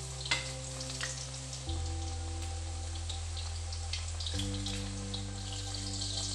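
Chicken Manchurian sizzles and crackles steadily as it fries in a hot pan, a continuous close frying hiss with a low hum underneath and no voices.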